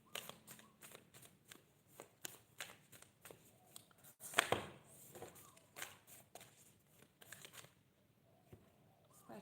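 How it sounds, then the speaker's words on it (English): Oracle cards are shuffled repeatedly in quick riffling bursts, close and soft, with one sharper rustle midway and faint talk in the background. "just going to shuffle the cards"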